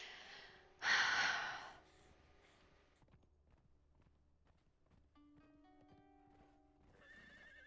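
A loud horse whinny rings out near the start, then fades into quiet hoof clops and faint rustling, with tonal chimes toward the end.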